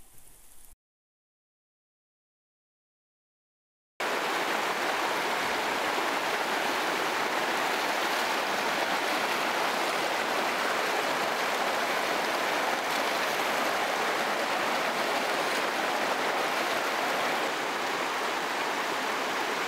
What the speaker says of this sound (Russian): Вода ледяная, горная река